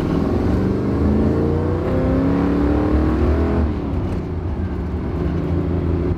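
A first-generation Camaro's factory DZ302 small-block V8 revs loud and close, its engine note rising in pitch through several seconds and then easing back to a steady rumble, with no voices over it.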